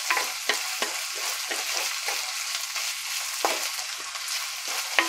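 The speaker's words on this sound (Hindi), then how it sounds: "इसको अच्छे से चलाएंगे थोड़ा देर के लिए" Frozen green peas stirred and sautéed in a pan for samosa filling, with a steady sizzle under repeated scraping strokes of a spoon at a regular, unhurried pace, close and moderately loud.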